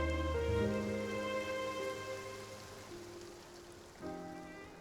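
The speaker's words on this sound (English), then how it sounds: "It rained for longer than I suspected." Rain from the video game Genshin Impact, set in the Fontaine region, gives a soft, steady hiss of falling drops beneath a sustained musical drone, faint and continuous throughout with no voices.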